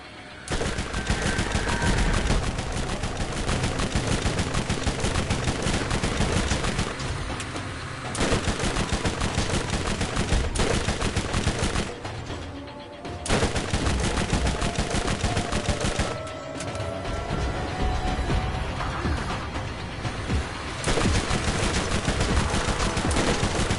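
Rapid gunfire from weapons in the video game Borderlands, a loud, dense barrage of automatic bursts and shots that runs almost continuously, dropping out only in a couple of short gaps.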